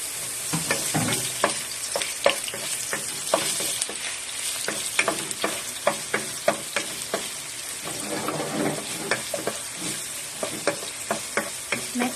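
Garlic and onion sizzle in olive oil in a pan, a steady hiss broken by regular scraping clicks as the pieces are stirred.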